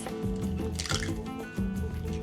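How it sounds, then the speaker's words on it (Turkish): Two eggs are cracked into a bowl for cookie dough: a sharp close crack followed by wet squishing, dripping and sliding of egg into the bowl, heard up close with no talking. "Kurabiyemiz için önce 2 adet yumurtamızı kırıyoruz."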